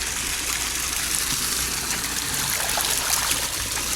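Stream of water trickling and gushing steadily near a small mill beside a farmer's house on Nami Island, Korea, a continuous close, bright flowing rush with no voices.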